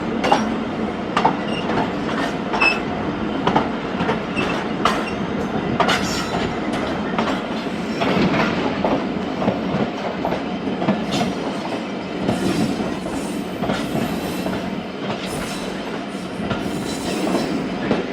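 The Thal Express rolls along the rails in a steady, loud rumble, with repeated clickety-clack wheel beats and occasional squeals, heard from on board and continuing without talk.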